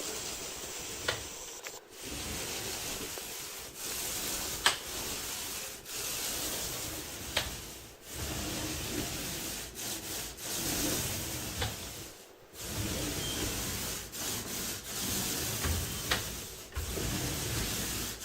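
A paint roller on a short extension pole spreads satin paint onto a room wall with repeated soft rasping, rubbing strokes in a steady rhythm, broken by brief pauses between passes, close and moderately quiet with no speech.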